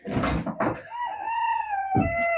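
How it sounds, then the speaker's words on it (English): A chicken calls close by, a sustained tonal, slightly wavering cry that follows a few short scuffling noises and ends with another brief rustle. "There goes Pedro. Finally gave Chicken a name."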